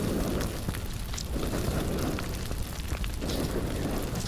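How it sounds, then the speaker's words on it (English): A game character catching fire, heard as a steady, loud roaring crackle of flames that fills the whole stretch without pause and with no talk. "got distracted there because I set myself on fire"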